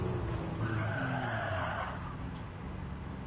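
A Nissan R34 GT-R sliding in Gran Turismo 7, a sustained tire squeal over engine hum that holds then eases off, fairly faint and steady.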